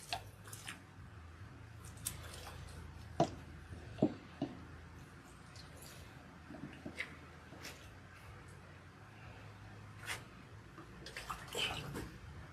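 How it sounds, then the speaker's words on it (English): Water splashing and running as oil is rinsed out of hair, soft and fairly quiet, with intermittent wet squishes and small knocks spread unevenly across the clip. "Now we are rinsing."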